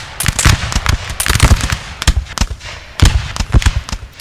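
Musket volleys crackle through a Napoleon Total War multiplayer battle, dense overlapping gunfire pops in loud, rapid bursts, like ragged firecracker strings, with no pauses.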